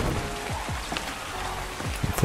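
Steady rain falls in the survival game Ark, a constant broadband patter with occasional louder drop hits over a low, even hum, holding one level throughout.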